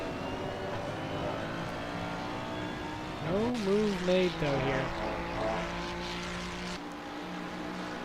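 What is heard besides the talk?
race car engines roaring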